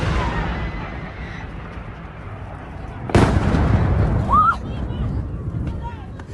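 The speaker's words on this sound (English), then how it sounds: "So here are some videos of this missile strike." Missile strike explosion in war footage: a sudden loud blast cuts through steady rumbling background noise, followed by a sustained roar and a brief whistling tone.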